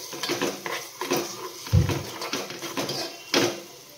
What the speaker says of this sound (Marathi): याला मिक्स करून घेऊ.